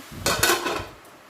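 A lid is set onto a cooking pot of leafy greens, a short metallic clatter with a quick double knock as it settles, close and moderately loud, then quiet.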